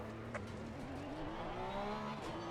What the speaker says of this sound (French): je démarre le moteur et c'est parti